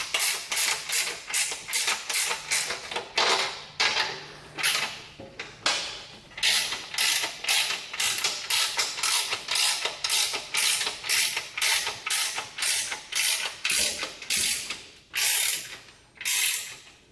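A center clamp on a Certiflat weld table is cranked down with a ratcheting mechanism, producing a long series of rapid, evenly spaced metallic clicks in bursts, close and fairly loud with brief pauses between strokes.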